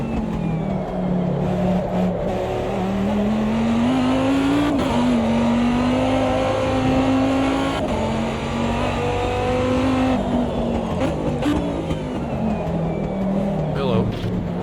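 Viper GTS-R race car from the 2005 ALMS season driven in the AMS2 racing game, its loud engine droning steadily with rising and falling pitch through gear changes, close and continuous throughout.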